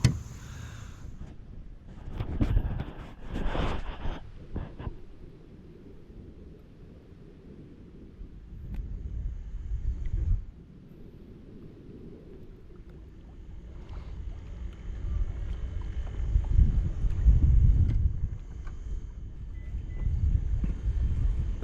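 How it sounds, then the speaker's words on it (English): Wind buffets a microphone on a kayak while rockfish and perch are fished in Maryland, giving low rumbling gusts that swell and fade over the whole stretch. Faint water and boat handling noises come through between the gusts, and no one speaks. "It's a little windy today."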